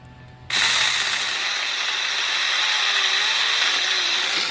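A Saker mini chainsaw starts abruptly and runs as a steady, loud, close motor whine with a rough buzzing edge, holding at constant strength to the end.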